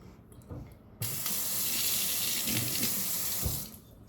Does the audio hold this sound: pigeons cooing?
no